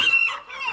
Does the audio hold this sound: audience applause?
no